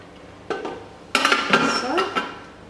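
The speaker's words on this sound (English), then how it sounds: "we're just going to scrape down the sides of the bowl" A spatula scrapes down the sides of a Thermomix bowl after ginger and garlic are chopped, a few short scraping and clinking strokes against the bowl, close and moderately loud, with a faint voice in the background.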